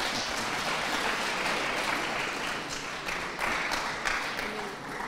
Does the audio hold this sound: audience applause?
yes